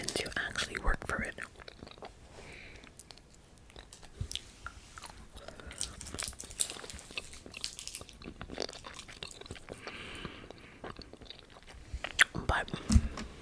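Gum chewed close to the microphone, soft wet smacking and mouth clicks recurring throughout, under continuous quiet whispering.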